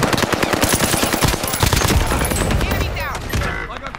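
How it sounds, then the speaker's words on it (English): Rapid bursts of video game gunfire fill the whole stretch, dense and loud, with sharper sniper-style cracks among them and sounds of the game's battlefield underneath. "Oh, someone sniped me."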